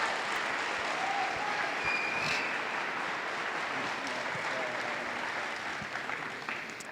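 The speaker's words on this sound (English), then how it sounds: "let's just give them a round of applause" A school crowd applauds six athletes at a national signing day event, with steady, dense clapping from many hands that holds for several seconds and tapers slightly at the end.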